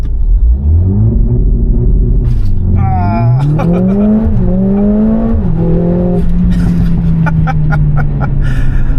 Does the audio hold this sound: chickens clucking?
no